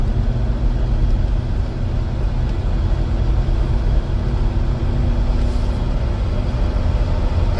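A 1980 Jeep J10 Honcho truck drives along with a steady, loud engine drone and road rumble that holds evenly throughout, heard from inside the cab.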